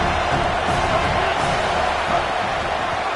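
A home football crowd in a stadium roars and cheers in a dense, continuous wash of noise, loud and steady throughout the short stretch.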